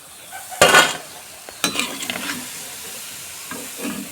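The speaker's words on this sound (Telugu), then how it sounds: "meal maker pakodis deep fry చేసుకోవాలి" Meal maker pakodi deep frying in hot oil, bursts of bubbling sizzle swelling as pieces drop in, then settling into a softer, steady crackle with a few louder flare-ups.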